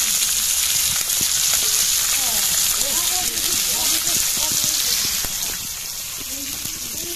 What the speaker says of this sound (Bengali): ডাল গরম করতেছে।